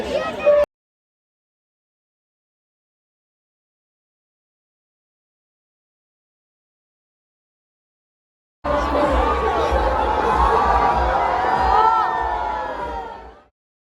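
Dense crowd noise at the Santosh Mitra Square Durga Puja pandal in 2024: a steady roar of many voices, shouts and cheers from a packed throng. A brief burst opens the clip, followed by a long silence, then sustained loud crowd sound to the end.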